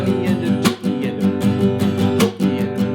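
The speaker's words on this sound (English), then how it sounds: "that's your 16th note strums with percussive hits" Acoustic guitar strummed in steady sixteenth notes with percussive muted hits on the backbeats, close and loud, dense rhythmic chords alone without talk.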